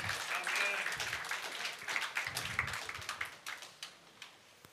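Church congregation applauding and cheering in praise at an afternoon worship service, a dense wash of clapping that thins into scattered, irregular claps toward the end, with voices mixed in.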